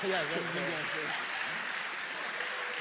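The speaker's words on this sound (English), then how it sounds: "Standing ovation from the crowd" A crowd gives a standing ovation for the medalists at the Swordfish 2016 tournament, with steady applause filling the hall and a voice speaking over the start.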